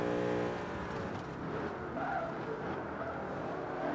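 A car in Forza Motorsport 5 braking hard, its tires squealing in a sustained, loud screech over a steady engine roar through the whole stretch.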